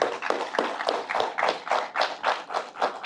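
An audience at a press event for the web series Aka gives a round of clapping: quick, fairly even bursts of hand claps from a modest group, close and moderately loud, with no speech over them.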